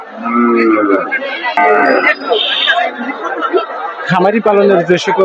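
Cattle, including big bulls, low at a busy village livestock market on a rainy day, with a few deep moos rising over a steady hubbub of crowd chatter.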